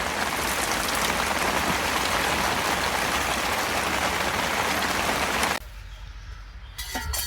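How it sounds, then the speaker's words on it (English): Dense, steady patter of rain drumming on tent fabric at a campsite in Long Point Provincial Park for several seconds, then it suddenly drops to a softer, quieter backdrop near the end. "we can just enjoy the sound of the rain on the tent"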